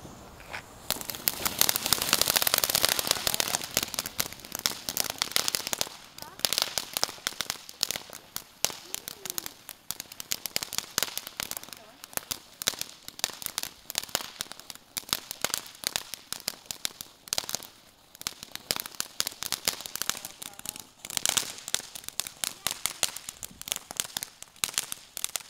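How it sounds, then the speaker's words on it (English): Firecrackers pop and crackle on New Year's Eve in a long dense series of rapid snapping bursts, heaviest near the start and again toward the end, with voices faintly mixed in. "I do my firecracker?"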